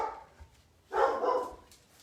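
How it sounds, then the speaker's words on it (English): Dogs barking at home, a short, faint distant bark followed by a louder burst of barking lasting about half a second, with quiet room background around it. "it's not normal for them to keep barking like that"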